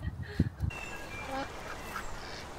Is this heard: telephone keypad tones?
no